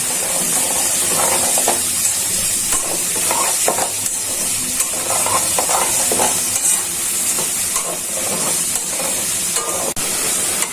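Cinnamon, cardamom and bay leaf crackle with fried onions in hot oil in a pan for an Eid beef rezala or egg korma, giving a steady close sizzle with repeated stirring scrapes and clinks and no speech.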